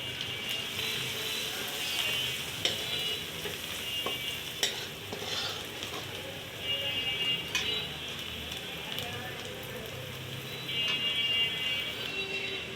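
Garlic, coriander, cumin and turmeric sizzle in a pan for a lentil dal with tomato, a continuous close frying hiss broken by scraping stirs and light clinks, with no talking.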